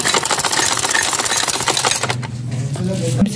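A sewing machine stitches lace onto a chiffon dupatta, running with a steady fast clatter for about two seconds before stopping; someone speaks over the stitching.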